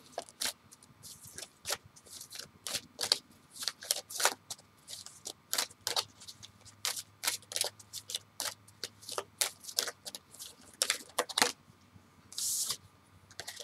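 Tarot cards being shuffled make a long run of quick dry flicks and riffles, close and fairly quiet, arriving in irregular clustered bursts with no talking.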